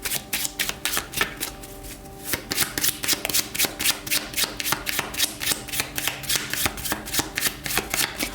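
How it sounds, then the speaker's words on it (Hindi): Tarot cards are shuffled by hand in quick, repeated riffles, a steady papery rhythm of close, crisp bursts that continues throughout with no talking. "शफल कर लेते हैं कार्ड्स को।"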